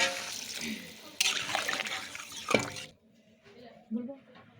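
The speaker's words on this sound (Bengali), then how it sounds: "এবার সেদ্ধ হওয়ার জন্য জল দেব" Water is poured into a cauliflower and potato curry in a pan, a splashing trickle for a few seconds that then stops, followed by faint sizzling.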